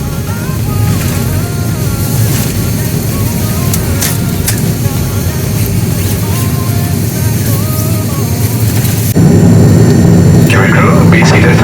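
Airbus A330-300 jet engines on a Paris to Colombo takeoff heard from the business class cabin, a loud steady roar that swells louder near the end, with cabin voices mixed in.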